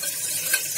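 Ginger fries and sizzles in a pan while being stirred for a jackfruit and tomato curry, a close, steady hiss with soft scraping of the spoon throughout.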